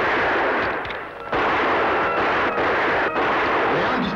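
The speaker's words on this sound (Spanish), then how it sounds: "Le han disparado." Loud gunshots in a Spanish-language radio drama, a heavy continuous barrage of bangs with a brief dip before it swells again, close and dominant with no voices.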